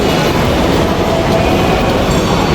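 A loud, steady rumble of a Singapore MRT metro train rolling along rails, with a continuous rushing drone and faint rhythmic clatter, no voices.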